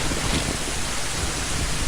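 Steady, dense rain hisses with a low thunder rumble underneath in the game Zelda: Ocarina of Time, continuous and fairly loud with no talking.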